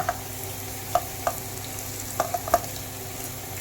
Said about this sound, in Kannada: ಈಗ ನೆಕ್ಸ್ಟ್ ನಾನು ಕ್ಯಾಪ್ಸಿಕಮ್ ಹಾಕೊತಾ ಇದ್ದೀನಿ